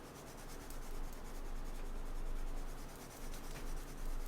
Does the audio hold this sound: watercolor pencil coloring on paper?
yes